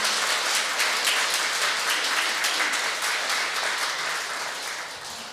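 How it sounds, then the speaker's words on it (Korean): Congregation members at a Won Buddhist temple service give sustained, even applause, a dense wash of clapping that holds steady and then gradually thins and softens toward the end. "큰 박수 다시 한번 드리겠습니다"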